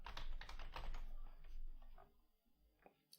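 Rapid keystrokes on a computer keyboard in a quiet room, a dense burst of clicks for about two seconds, then a few isolated taps.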